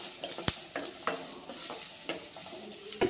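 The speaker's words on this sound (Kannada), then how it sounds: "ಬಿಸಿಬೇಳೆ ಬಾತಿಗೆ ಒಗ್ಗರಣೆ ಹಾಕೋಣ." Mustard seeds, onion, green and red chillies and curry leaves fry in hot oil for a bisi bele bath tempering, with a steady close sizzle broken by repeated sharp scrapes of stirring against the pan.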